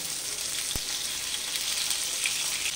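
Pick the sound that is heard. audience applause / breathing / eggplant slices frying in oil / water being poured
eggplant slices frying in oil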